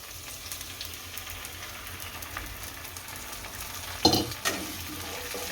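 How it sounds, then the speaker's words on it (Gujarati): Momo chutney hisses steadily as it fries in a pan while being stirred, with a louder clatter of the spoon near the end. "અને હલાઈ નાખશું ચટણી હારી."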